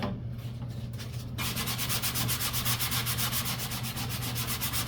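Sandpaper rubbed back and forth on a model P-51 Strega airplane, close and steady, with rapid rhythmic scratching strokes that grow stronger after the first second.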